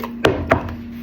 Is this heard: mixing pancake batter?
yes